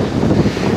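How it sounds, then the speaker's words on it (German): Strong wind gusts roar across a sandstone mountain ledge, a dense, loud rush buffeting the microphone throughout the short moment. "Das sind ganz schöne Böen teilweise."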